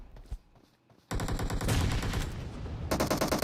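Rapid automatic gunfire from the PUBG Mobile battle royale game, loud and dense bursts crackling continuously after a brief quiet opening, with short gaps between volleys.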